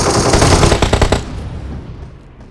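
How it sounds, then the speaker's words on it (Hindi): Rapid automatic gunfire from a video game shooter, a loud burst of dense shots for about a second that cuts off and leaves a quieter fading tail. "मैं शॉट मार रहा हूं"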